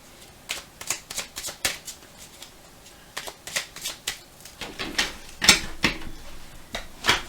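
Oracle cards shuffled by hand at close range, a steady run of quick papery riffles and taps with short pauses, a few crisper slaps near the end, and no talking over them.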